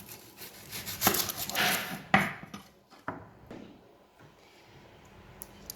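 A knife chops through a purple onion on a cutting board, a few sharp close knocks and slicing strokes spaced unevenly, fading quieter toward the end.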